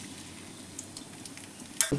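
Oil sizzles and crackles steadily at low volume as a chopped onion fries, a soft continuous frying hiss, with a brief clatter near the end.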